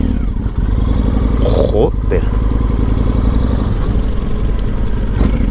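A Yamaha MT-01 motorcycle engine idles with a deep, steady rumble and briefly revs up, heard up close outdoors, with someone talking over it.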